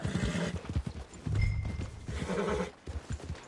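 Horse hooves clip-clop in the video game Red Dead Redemption near a town's stables, a steady close trot with a whinny rising briefly amid the game's background sounds.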